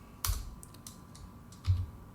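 A few sparse keystrokes on a computer keyboard click close by, with two sharper taps standing out over a quiet room hum.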